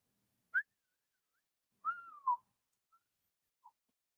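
A person whistles an imitation of R2-D2, the Star Wars droid, in short chirps and a rising, falling warble, with a few faint trailing beeps, close and alone with no talk.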